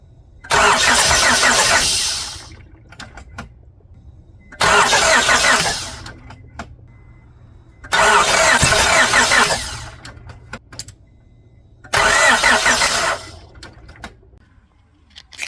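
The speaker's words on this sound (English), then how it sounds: "I'm gonna turn the light off and turn the engine over." A car engine with an old distributor fitted is cranked over by the starter in four separate bursts of about two seconds each, with pauses between them, recorded up close and loud, with no talking.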